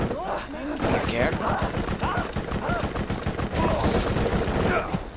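Rapid automatic bursts from a fire SMG in the video game Borderlands, close and loud, firing in a steady rattling stream through the whole stretch with in-game effects, while a player talks over the gunfire.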